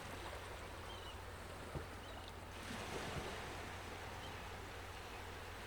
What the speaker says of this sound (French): J'écoute le bruit des vagues,